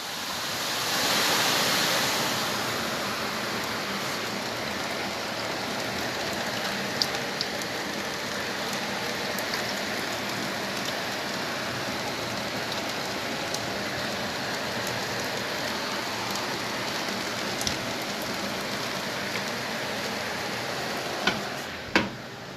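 Steady rain pours down in a dense, continuous hiss, with a few louder drips and taps standing out near the end.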